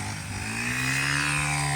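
A steady, droning engine of an RC402 engine-powered brush cutter runs continuously while cutting rice in a paddy field, loud and close with no talk.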